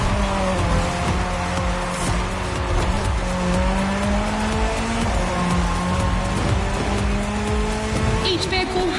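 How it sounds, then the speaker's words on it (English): Rally car racing in a PS4 racing game, engine roaring continuously with tires squealing and skidding on the course, loud and constant, with a voice talking over it. "The rally car has already changed its course to reach the dirt."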